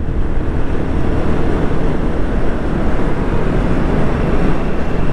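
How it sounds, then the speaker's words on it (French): A Royal Enfield Guerrilla 450 motorcycle engine warms up with a steady, loud low rumble that holds the same level throughout, mixed with some wind noise and no talking. "on laisse le moteur s'éveiller"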